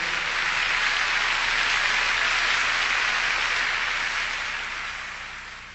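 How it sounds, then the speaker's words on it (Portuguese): Church congregation clapping during an evangelical sermon, a broad steady wash of many hands clapping together, sustained and then gradually tapering off near the end, with no talking. "Se vocês querem, podem dar palmas ao Senhor."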